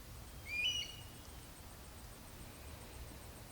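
A single brief bird call rings out once in a quiet backyard, moderately close, over a faint steady hiss of background noise.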